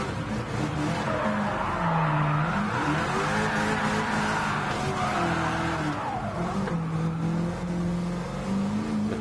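Car drifting in the Gran Turismo racing game, played with a G29 wheel, with a continuous engine drone and sustained wavering tire squeal across the whole stretch, loud and close with no break.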